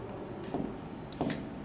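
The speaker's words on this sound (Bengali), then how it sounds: "তাহলে আমরা লিখি" Chalk or marker writing on a board during a biology lecture on algae and fungi, two short scratchy strokes a moment apart against a steady room hum, with no talking.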